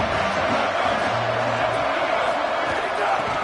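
A stadium crowd in a college football video game cheers as a steady, dense roar at moderate loudness, with no distinct peaks over three and a half seconds.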